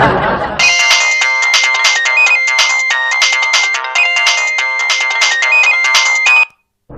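A phone ringtone for an incoming call plays as a bright, repeating electronic melody, loud and close, then stops abruptly.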